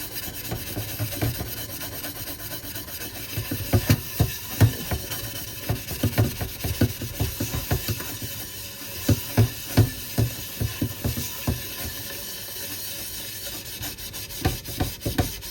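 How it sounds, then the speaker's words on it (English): Vigorous scrubbing to clear dark rust residue from the inside of EWSLLC kitchenware, with irregular bursts of close, harsh rubbing strokes that quicken and pause, and no talking. "I'm gonna go ahead and scrub it one more time to give it that final clean"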